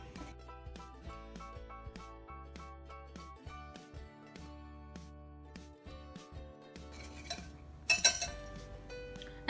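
A spoon clinks repeatedly against a bowl while ground nutmeg and ginger are stirred together for an apple pie filling, with steady, closely spaced clinks over soft background music.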